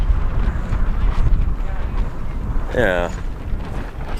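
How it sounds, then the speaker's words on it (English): Gusty wind buffets an outdoor dinosaur dig quarry in Utah, a loud continuous rumble with shifting gusts over the microphone, while a person briefly speaks partway through. "it's getting windy"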